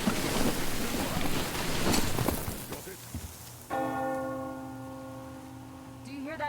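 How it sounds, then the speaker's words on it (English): A bell ringing in the video game Metro Exodus, with steady sustained tones sounding alone after a stretch of rain-like noise and wind, mid-distance and moderately loud. "Hear that bell?"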